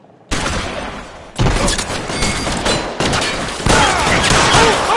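Bursts of gunfire in the video game L.A. Noire: several loud, sharp volleys of rapid shots crack one after another in a shootout with the cops, each burst ringing out and blending into the next.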